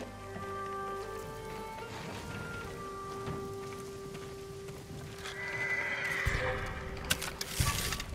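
A horse whinnies in Ghost of Tsushima over steady rain and clip-clopping hooves, with a low musical drone underneath; a couple of thuds near the end.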